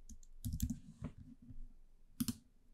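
A computer keyboard is typed on in a few quiet, close clicks, a small cluster of keystrokes followed by a couple of isolated taps, with no talking.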